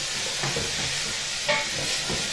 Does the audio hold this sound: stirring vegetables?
yes